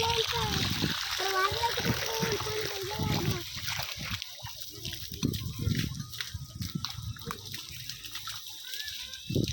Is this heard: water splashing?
yes